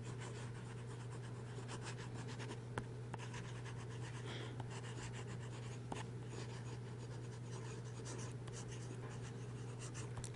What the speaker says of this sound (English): This fine nib writes extremely well.